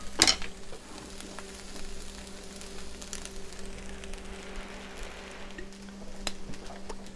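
Fried rice stirred in a cast iron skillet, a quiet steady sizzle with a sharp scrape of the utensil at the start and occasional faint clicks against the pan.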